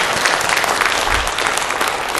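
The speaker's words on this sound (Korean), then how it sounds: "우리 교회 청년들이 갔는데 박수로 축하하겠습니다" A church congregation applauds at a Sunday service, a loud, close, continuous burst of many hands clapping in a fast, dense patter with no talk over it.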